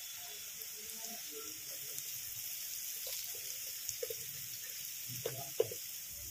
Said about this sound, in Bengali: পেঁয়াজ লঙ্কাটা একটু ভেজে নেব।